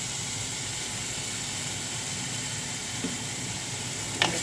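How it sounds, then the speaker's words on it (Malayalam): Crushed garlic, ginger and shallots sautéing in oil with a pinch of salt for a tuna curry: a steady, close sizzle runs throughout, with a couple of faint stirring clicks near the end and no talk. "വെളുത്തുള്ളി, ഇഞ്ചി, ചെറിയുള്ളി എല്ലാം കൂടി ചതച്ചത് ഇട്ട് നന്നായിട്ട് വഴറ്റി കൊടുക്കുന്നു."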